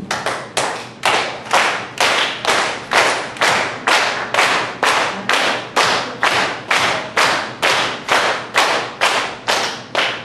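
A group doing laughter yoga claps hands together in a steady, loud rhythm, about two claps per second, each sharp clap ringing briefly, continuing without pause and with no talking.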